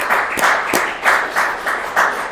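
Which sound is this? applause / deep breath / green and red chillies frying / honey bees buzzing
applause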